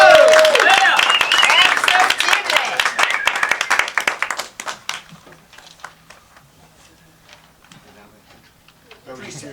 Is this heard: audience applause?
yes